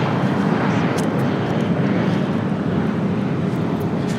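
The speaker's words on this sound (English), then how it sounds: "This is United Airlines 1185 taking off to Los Cabos on an A320" A United Airlines A320 takes off at LAX as a steady, moderately distant jet engine rumble with faint wind buffeting over it.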